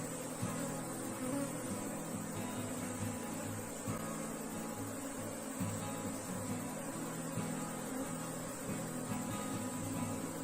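Africanized honey bees swarm around an opened hive frame during a colony split, a dense, steady buzzing drone holding at one level throughout without pause.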